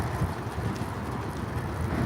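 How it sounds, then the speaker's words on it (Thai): Strong seaside wind roars steadily into the microphone of a bicycle being ridden, a dense, low continuous buffeting with no voices over it. "ลมแรงมากตรงนี้ มันใกล้ทะเล"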